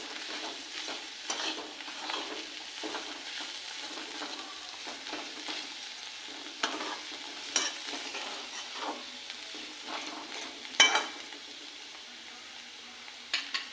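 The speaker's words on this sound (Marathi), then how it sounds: "चांगली हलवून घेऊ" A spoon or ladle stirs a curry of sprouted field beans (birdya rassa) in a cooking pot, making steady, repeated scraping strokes over a soft, continuous sizzle, with a slightly louder clatter near the end.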